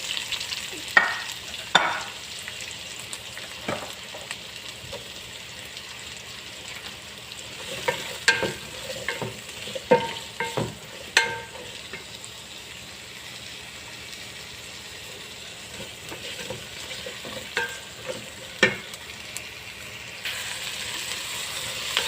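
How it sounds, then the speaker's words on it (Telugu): Onions fry in oil in a pan, giving a soft ongoing sizzle with intermittent stirring scrapes and clicks of a spoon, fairly quiet and close, with no voices. "ఆనియన్స్ ఒక టూ మినిట్స్ ఫ్రై అయిన తర్వాత మటన్ అయితే వేసుకోవాలి"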